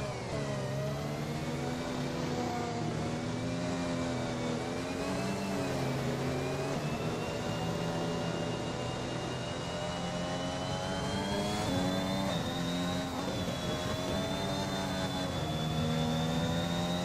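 Formula 1 race cars in a simulated league race at the Saudi Arabia circuit during a safety car period: several high-pitched engine whines overlap continuously, their pitch drifting slowly up and down at a steady level.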